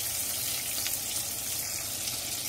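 Steady, close sizzling of sausage frying in hot oil in a pan, a dense crackling hiss running evenly throughout with no talk.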